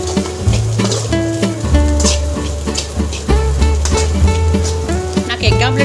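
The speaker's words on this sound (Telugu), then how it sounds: "ఇప్పుడు రైస్ అంతా ఇందులో కలిపేస్తాం." Egg fried rice made with cooked rice and chili powder sizzles loudly in a pan, with steady frying hiss and repeated scraping, clattering stir strokes of a spatula against the metal.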